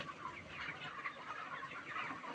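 Dense, continuous clucking from many broiler chickens packed together in a farm shed, a steady overlapping chorus with no single bird standing out.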